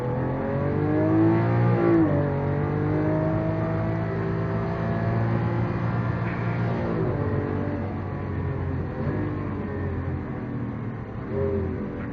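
Lamborghini Aventador driven flat-out on the Vallelunga race track in Strada mode, its engine revving up in rising sweeps, dipping on shifts and climbing again, heard loud from inside the car.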